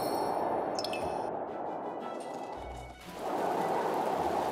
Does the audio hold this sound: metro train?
no